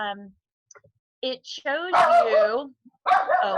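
A house dog barks and yips a few times up close indoors, in short bursts between and under a man's speech.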